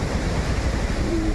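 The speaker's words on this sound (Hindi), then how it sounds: "ये रहा ना, ये है वाटरफॉल," Waterfall near Nainital, heard as a steady, loud rush of falling water that fills the whole short stretch with broadband roar and wind-like noise, with no voices over it.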